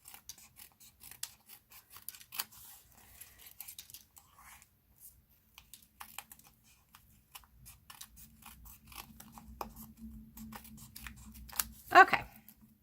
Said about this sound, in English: we are just going to trim off all of these extra ends here on all 4 sides of our cardstock